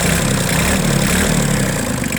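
A Yanmar AF16 mini tractor's three-cylinder engine runs up close, loud and steady, revved slightly with a dense, even mechanical rumble and no other sounds over it.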